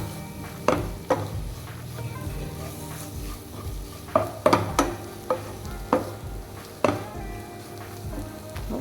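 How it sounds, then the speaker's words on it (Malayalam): Chicken curry masala is stirred in a pan, a spoon scraping and knocking against the metal at irregular intervals over a steady low sizzle, close and clear. "അതും കൂടെ ചേർത്ത് നല്ലപോലെ ഒന്നുകൂടെ ഒന്ന് ഇളക്കി കൊടുക്കാം."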